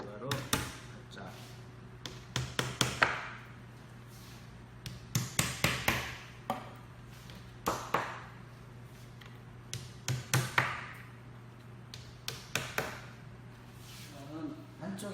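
A screwdriver taps leftover wood scraps out through a drilled hole, giving clusters of sharp close knocks in irregular bursts with pauses between, while a voice talks quietly in the background.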